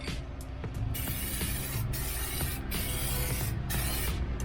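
SEM aerosol dye sprayed as a light coat onto Foxbody interior panels, a steady close hissing spray in bursts with brief gaps between passes.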